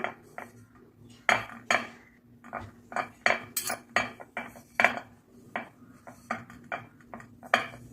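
A metal cooking vessel being greased with ghee clanks and knocks on a kitchen surface, a string of sharp close metallic clinks and taps at an irregular rhythm over a quiet background.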